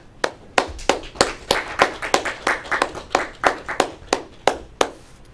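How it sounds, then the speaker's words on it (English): A round of applause at a Toastmasters club meeting, sparse and fairly close, with about twenty distinct claps in an uneven rhythm rather than a dense crowd roar. "Round of applause."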